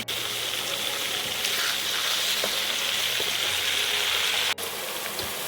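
Tomato sauce with boal fish is stirred in a frying pan, a loud steady sizzle with faint spatula scrapes and one brief dip near the end.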